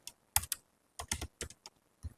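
Keys on a computer keyboard are tapped in short irregular bursts of clicks, quiet and close, with no talking.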